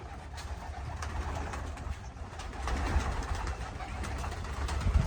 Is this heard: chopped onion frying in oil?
no